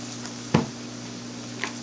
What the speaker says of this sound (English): if you could see and smell and hear this, it's just sizzling away